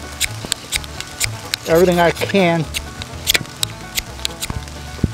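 Rain falls outdoors at a wild campsite, scattered drops pattering irregularly on nearby surfaces as sharp close ticks, while someone speaks briefly in the middle.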